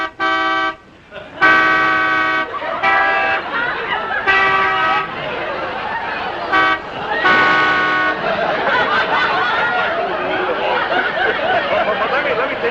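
A voice imitates Canada goose honks in a series of nasal, horn-like calls, mixed with chuckling and talk.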